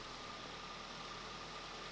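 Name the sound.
car engine idling after starting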